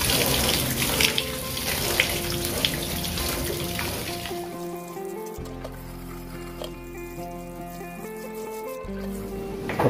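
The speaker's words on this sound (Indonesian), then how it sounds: "Ini beras ketannya saya cuci terlebih dahulu ya sebelum kita masak." Glutinous rice being rinsed under a running tap in a sink, a steady close splash of flowing water over grains that changes tone partway through as the rice and water shift, with no talking.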